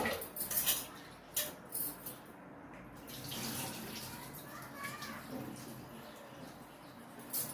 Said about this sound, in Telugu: పెసరపప్పు బాగా కడుక్కొని 2 సార్లు కడుక్కున్నాను